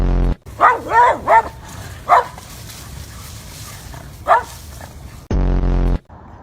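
A dog barks in a few short bursts, some clustered close together and one later single bark, fairly near, followed by a loud sustained tonal noise near the end.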